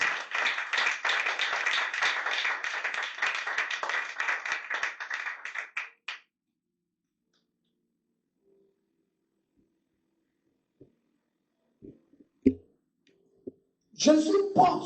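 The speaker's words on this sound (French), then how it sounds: "Est-ce que tu peux donner un coup d'acclamation au Seigneur Jésus-Christ?" A church congregation claps together in acclamation during a sermon, a dense burst of rhythmic hand claps that cuts off abruptly after about six seconds, followed by near silence with a few stray knocks and then a voice speaking.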